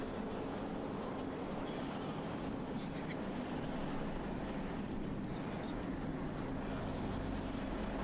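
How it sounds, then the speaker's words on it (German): A helicopter approaching in the video game Kane & Lynch 2 comes through as a steady, dense engine rumble and wash that holds at an even loudness for the whole stretch, with other game noise mixed in. "Gleich kommt wieder ein Helikopter, wenn ich das richtig sehe."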